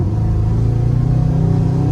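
A 1987 Chevrolet C10 pickup with an LS-swapped V8 accelerates hard, its steady low engine drone and rumble rising as the throttle opens, loud and close throughout with no talking.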